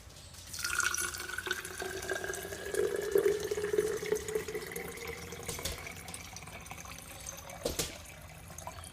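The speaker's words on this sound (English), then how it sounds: "Fill it up now to the top with water" Tap water runs into a mason jar holding alfalfa seeds for sprouting, a steady close trickle whose pitch slowly rises as the jar fills.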